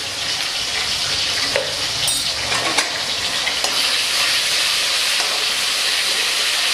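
Ginger garlic paste sizzles in hot oil for chilli chicken, a loud steady frying hiss with a few brief stirring clinks and scrapes, and no talking.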